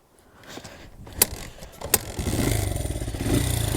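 A dirt bike engine just after a kick start, with a couple of sharp mechanical clacks and then the motor catching into a steady, loud, close idle rumble with no talking.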